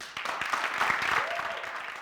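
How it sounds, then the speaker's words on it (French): Studio audience at a Burkinabè television variety show applauding a performer, a short burst of clapping and crowd noise, fairly loud and close, swelling slightly in the middle. "je vais vous demander de faire beaucoup d'applaudissements pour Élise"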